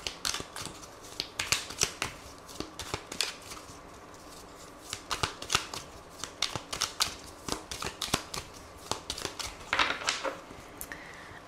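Tarot cards being shuffled and cut up close, with a steady run of crisp, papery flicks and snapping riffles in quick irregular bursts.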